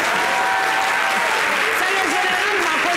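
An audience at a live Ivorian television show applauds, a steady wash of clapping throughout with someone talking over it.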